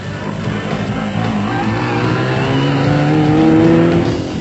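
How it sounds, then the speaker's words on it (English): A 1997 off-road race vehicle in South Africa attacks a mud hole head on, its engine roaring loudly and climbing in pitch as it revs and pushes through, close and continuous. "Second on the road, Richard Carolyn wasn't about to get stuck and attacked the mud hole head on."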